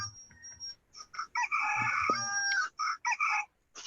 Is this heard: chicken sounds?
yes